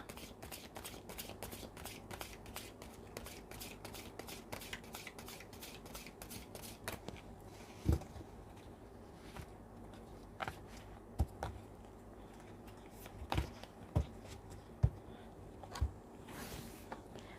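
Tarot cards being shuffled, a soft fluttering riffle close by at first, then scattered light card taps and snaps, quiet and without talk.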